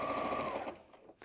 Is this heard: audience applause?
no